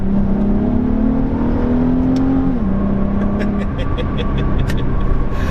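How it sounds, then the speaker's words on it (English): Dropped into third gear, a Nissan 370Z engine revs up with a steady, rising drone that briefly dips near the middle and then carries on, loud and continuous from the cabin, with no talking over it. "drop her into 3rd, and"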